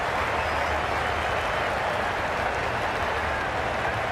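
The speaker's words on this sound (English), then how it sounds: "The crowd are really getting quite raucous." Raucous cricket stadium crowd from the Cricket 22 video game during a Big Bash League match in Sydney, a dense continuous roar of cheering and chatter holding steady and loud throughout.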